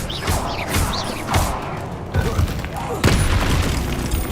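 Expelliarmus spell impacts in the video game Hogwarts Legacy, several heavy booming blasts at irregular intervals over a busy combat background, with a voice speaking.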